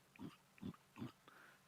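A warthog on a sunset safari grunts three times in low, evenly spaced snorts, faint and distant against quiet outdoor ambience, with a softer fourth call trailing after.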